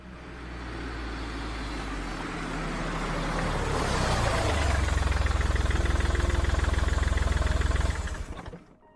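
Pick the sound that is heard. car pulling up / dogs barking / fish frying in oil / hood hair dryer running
car pulling up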